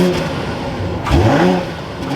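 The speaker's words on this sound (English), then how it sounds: "let's fire this up with that crystal button down below. Take a listen to the 540i." A 2024 BMW 540i xDrive M Sport engine starts up close by with a sharp, rising rev flare that settles back into a smooth, steady hum.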